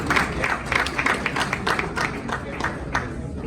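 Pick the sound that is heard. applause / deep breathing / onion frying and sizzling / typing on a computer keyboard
applause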